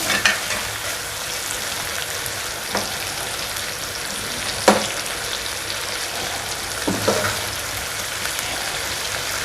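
Onions frying in a karahi for Sindhi chicken karahi, a steady close sizzle with a few sharp scraping stir clicks spaced through it, no voices.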